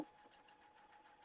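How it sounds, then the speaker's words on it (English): A sewing machine stitches decorative lettering in a steady, quiet mechanical whir that runs briefly and evenly with no talk. "I have my lettering selected from the memory, and I'm just going to sew"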